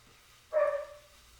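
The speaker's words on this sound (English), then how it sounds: "I'm sorry for the barking in the background." A single short dog bark, faint and distant, in an otherwise quiet room.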